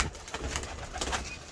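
Pigeons coo softly in a flock of old kept birds, a low murmuring that carries on continuously through a short stretch, near and moderately loud.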